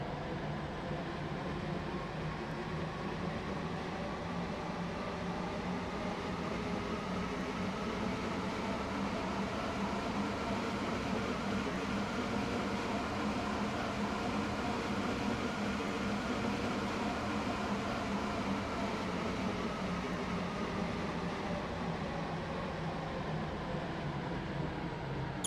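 Steady rumbling interior noise of a train in motion on a Stepford Connect service to Leighton City in the Roblox game Stepford County Railway, a constant broadband hum and rattle with no break throughout.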